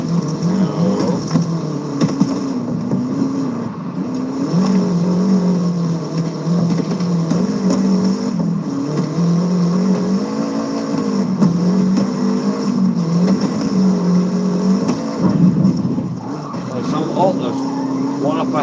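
A Peugeot 206 engine drones steadily while driving in a racing video game, its pitch rising and falling as it revs through gear changes, with someone talking over it.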